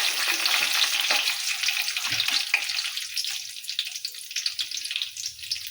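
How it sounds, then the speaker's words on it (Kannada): Cumin, mustard seeds, urad dal and peanuts crackle and sizzle in hot oil, a loud close frying hiss that thins out toward the end with scattered pops. "ಈಗ ಎಣ್ಣೆ ಕಾಯ್ದದ್ರಿ, ಜೀರಿಗೆ ಸಾಸಿವೆ ಹಾಕ್ತಾರೆ. ಸ್ವಲ್ಪ ಉದ್ದಿನ ಬೇಳೆ ಹಾಕ್ತೇನೆ ರೀ, ಸ್ವಲ್ಪ ಶೇಂಗಾ ಹಾಕ್ತೇನೆ"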